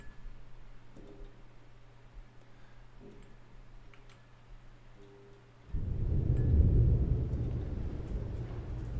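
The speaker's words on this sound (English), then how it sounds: "Let's see if the lightning and thunder works." Thunder effect inside a golf video game under development: after a faint ticking hum, a deep rolling rumble starts abruptly and carries on loud and low to the end.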